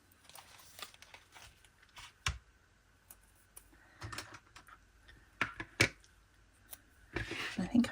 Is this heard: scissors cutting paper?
yes